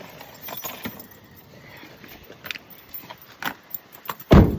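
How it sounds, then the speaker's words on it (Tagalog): Car keys jangle in a brief burst near the end, close and fairly loud, after several faint clinks and rattles against a quiet background beside a parked car. "Kukunin lang natin ang susi natin."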